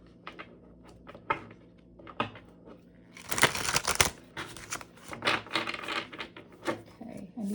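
Tarot cards being shuffled by hand, a run of crisp riffling and flicking bursts with a dense flurry in the middle, close and moderately quiet with soft handling noises between.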